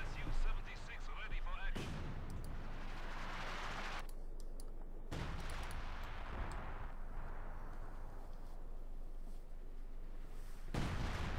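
A Stuka barrage in Company of Heroes 2 pounds away as dense, continuous explosive rumbling, with sharp blasts bursting out repeatedly over a sustained roar of battle.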